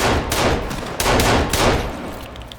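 Rapid bursts of gunfire from Sons of the Forest, loud and close, in several clustered volleys with brief gaps, tailing off toward the end.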